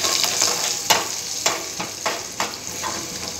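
Rasam with asafoetida is being stirred in a pot, giving a continuous close sizzle, with a spoon scraping in a few soft, regular strokes.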